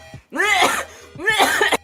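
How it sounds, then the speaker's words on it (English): Two short, forced coughs with a brief pause between them, close and fairly loud, with no talking. "the fake coughing, that's cringe"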